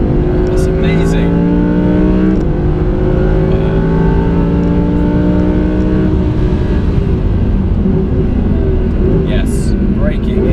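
A 2018 Audi R8 V10 Plus accelerates hard on a race track, its engine revving loud and close through rising gear pulls with brief shifts, with people talking excitedly over it.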